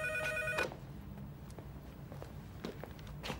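A telephone bell rings with a bright, repeated trill for just over half a second, then cuts off, leaving a quiet room with a few soft footsteps and rustles.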